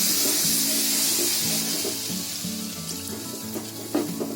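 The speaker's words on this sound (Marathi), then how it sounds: "आता हे दूध आहे ना त्याच्यामध्ये ओतायचं." Milk is poured into a pan while making a cheesy chicken gravy, a close, steady liquid splashing and trickling stream that continues throughout and thins slightly toward the end; no voices.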